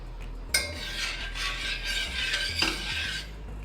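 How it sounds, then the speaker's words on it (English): A spoon stirs a pot of water with turmeric, black pepper and ginger: soft, continuous scraping and swishing that starts with a sharp clink, comes in a couple of bursts at close range, and has no voices. "Give it a good mix."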